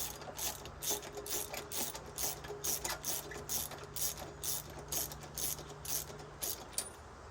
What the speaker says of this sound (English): So the first thing I'm going to do is take these spark plugs out.